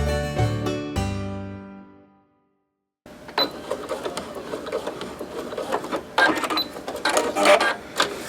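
A sewing machine stitches a second seam on a homemade heat pad. A brief tonal sound and a short silence come first, then the close mechanical whirring and rattling of stitching runs in uneven bursts that grow louder toward the end.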